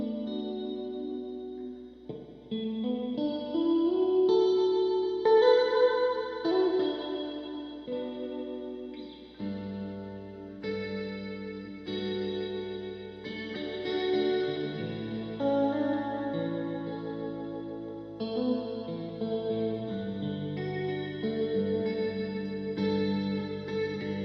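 A Westminster Effects Chrysostom chorus/vibrato pedal with its reverb turned up, shaping sustained warm, wavering guitar notes and chords that swell and fade in lush, shimmering layers, played alone.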